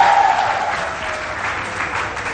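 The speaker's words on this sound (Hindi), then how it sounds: "तालियां बजा के बताएं" Loud applause from a studio audience on a Hindi morning music show, thick sustained clapping that begins at full strength and eases slightly while continuing evenly to the end.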